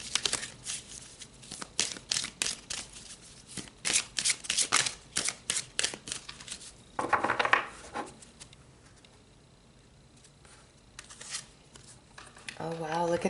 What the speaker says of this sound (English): So let's pull a numerology card.